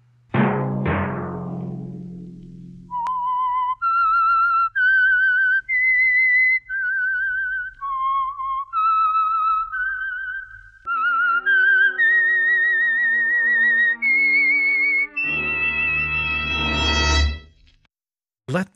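Whistled theme of The Whistler radio mystery show, a clear, loud melodic tune of sustained notes carried alone, following a brief stretch of rumbly, noisy sound at the start and swelling with accompanying tones near the end.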